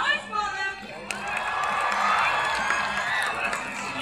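A large arena crowd at the Sydney Royal Easter Show cheers and whoops for a team of trick riders, the noise swelling into a sustained, roaring wall of sound after a brief quieter start.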